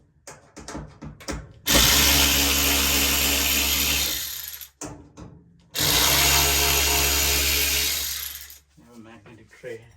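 A power screwdriver backing screws out of the front panel of a Samsung DV365GTBGWR/A3 dryer, two loud sustained whirring bursts of a few seconds each, close by, with handling clicks between them.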